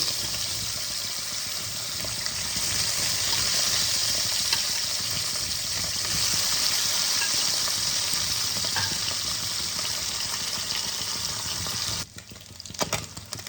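Fish frying in hot oil, a dense, even crackling sizzle held close and loud for most of the stretch, then dropping off near the end as a few clatters sound, with no talk.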